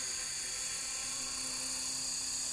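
Four-blade RC model helicopter settling in to land, a steady high-pitched rotor and motor whine that holds constant and fairly faint throughout, with no voices.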